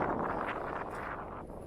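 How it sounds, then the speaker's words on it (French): Steady rushing wind buffets the microphone with a broad, low roar that holds constant throughout, close and fairly loud. "il y a du vent."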